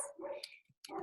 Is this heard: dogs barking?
yes